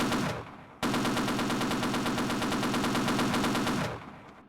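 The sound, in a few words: gunfire warning shots in video game Half-Life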